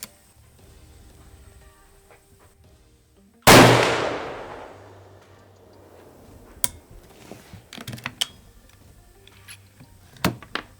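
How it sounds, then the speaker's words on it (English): A single sharp, loud gunshot from a hammer-fired Thompson/Center (TC) gun cracks out and rings off into a decaying tail, followed by a few quieter clicks and knocks of handling. "Open it up, close it, cock, and fire."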